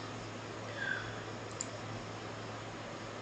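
A computer mouse gives a soft single click during spreadsheet work, faint against a quiet room hum.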